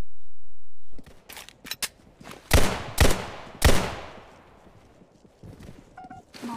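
Gunfire in the Roblox game Criminality: three loud, sharp shots ring out in quick succession after a short quiet stretch, each followed by a fading tail, with scattered softer clatter and in-game noise around them.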